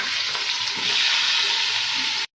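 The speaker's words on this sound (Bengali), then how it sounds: "এবার পেঁয়াজের বেরেস্তাটা ওই তেলে ভাজতে দিয়ে দেবো।" Sliced onions frying in hot oil for birista, a loud, dense, steady sizzle close up that stops abruptly near the end.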